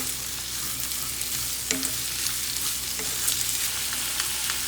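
Steady close sizzle of cucumber curry frying in a pan as tomato pieces go in, with a couple of sharp clinks and stirring scrapes over the continuous hiss; no talking.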